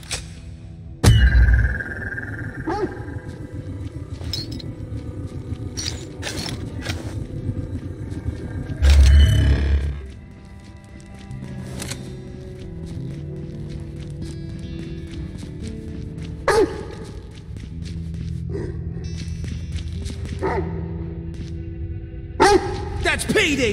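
A summoned dog in the video game Necromunda Hired Gun barks in a couple of sharp bursts, mixed in with game action sounds and a person talking.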